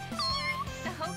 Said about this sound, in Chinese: 是小猫，我们带回家吧。